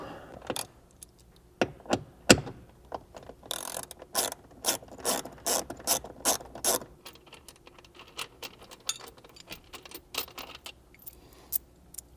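A ratchet tightens rivet nut inserts in a Jeep JK, giving bursts of rapid, crisp clicking close by, spread irregularly with short pauses and fading toward the end.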